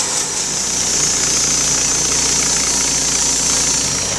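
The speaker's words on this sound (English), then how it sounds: "Ed's making old bunks for the logging sled using a Thomas bandsaw" A Thomas bandsaw runs steadily while sawing oak logs for logging sled bunks, a loud continuous motor drone with a constant mechanical hum and no pauses across the few seconds.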